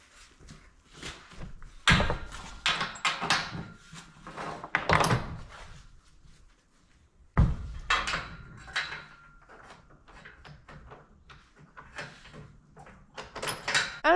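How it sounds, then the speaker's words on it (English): A door to the pit in a farm barn is shut, with a couple of loud thuds and rattling bangs among quieter scraping and handling noises, close by and with no talking. "I do have to go shut the door to the pit though."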